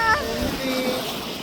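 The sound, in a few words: strong sea waves while out on a boat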